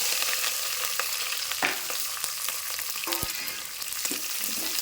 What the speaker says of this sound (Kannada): ಹಾಕೊಂಡ ಚೆನ್ನಾಗಿ ಫ್ರೈ ಮಾಡ್ಕೊಬೇಕು ಇವು ಫುಲ್ ಗೋಲ್ಡನ್ ಕಲರ್ ಬರೋ ತನಕ ಫ್ರೈ ಮಾಡ್ಕೋಬೇಕು ರೀ